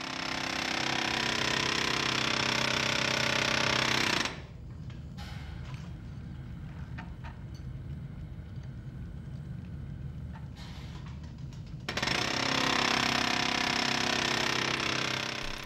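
A file-cutting machine hammers teeth into metal files in a workshop, a loud, dense, rapid mechanical pounding that drops to a quieter rattling run for several seconds before resuming at full force.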